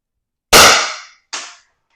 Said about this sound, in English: Oh, we got to fire it up. Yep. All right, first shot out.